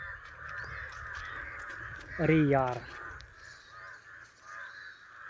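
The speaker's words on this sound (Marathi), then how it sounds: "इकडे तर मित्रांनो खूपच कावळे ऐकतात, म्हणजे कावळ्यांचा आवाज जास्त ऐकू येतो" Crows caw near a lake by a village dam, one loud burst of several harsh calls in quick succession against soft outdoor background, with someone talking before it.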